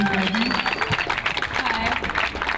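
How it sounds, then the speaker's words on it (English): An audience at a mural presentation claps together in a steady broadband patter, with murmuring voices mixed underneath throughout. "Let's give a round of applause, give it a little hype up a little bit, please."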